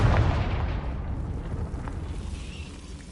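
A Confringo blast spell goes off in Hogwarts Legacy as a loud, deep explosion boom that hits at once and then fades into a long rumbling tail.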